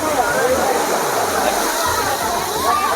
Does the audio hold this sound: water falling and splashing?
yes